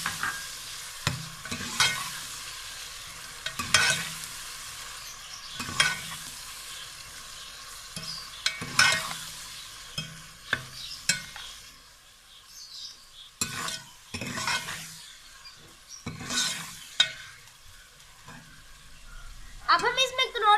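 Cauliflower and potatoes frying with tomatoes in a pan, stirred with a utensil in repeated scraping bursts over a soft sizzle, with pauses between strokes.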